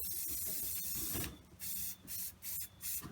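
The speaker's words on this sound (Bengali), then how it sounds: "আমি একটু স্প্রে অয়েল উপর দিয়ে ছিটিয়ে দিচ্ছি" Several short hissing bursts of cooking oil spray from a bottle onto chicken roasting over charcoal, spaced irregularly, with light clicks and rustling before them; fairly quiet and close.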